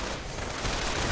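Burst of MG42 machine gun fire in a World War II strategy video game, a dense rapid rattle at moderate level, distant-sounding and continuous across the short moment.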